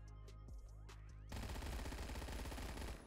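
PPSH-41 submachine gun in the Roblox game Phantom Forces fires a rapid, sustained burst of dense automatic shots, loud and continuous, preceded by a quieter stretch of scattered game sounds.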